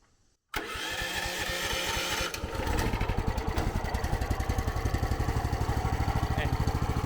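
A Mechmaxx 4205 woodchipper engine fires up on the electric start and settles into a steady, loud chugging idle with a clear pulsing rhythm.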